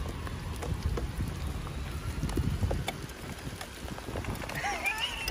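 Steady heavy rain outdoors in London hissing and pattering close by, a constant wet wash of sound with occasional louder drips and splashes.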